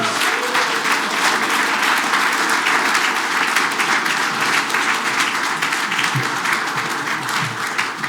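Sustained audience applause at a cannabis industry conference in Slovenia greets a speaker, dense steady clapping filling the room without pause.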